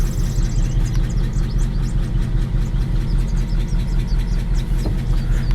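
A 1953 Ford F100 engine idles steadily up close, its out-of-adjustment valve lifters ticking in a quick, even rhythm over the low rumble.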